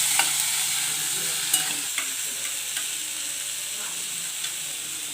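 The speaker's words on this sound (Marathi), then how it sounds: "पाच ते सात पाकळ्या आपल्याला लसणाच्या घ्यायच्या आणि छान आता हे इथे परतून घ्यायचं आहे आपल्याला" Five to seven garlic cloves sizzle and fry steadily in a pan for a dhaba-style cashew curry, with a continuous hiss broken by a few light clicks of a utensil stirring against the metal.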